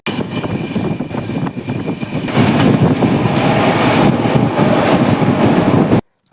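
Loud, continuous rumble of a train with rhythmic clattering, growing heavier partway through before cutting off abruptly.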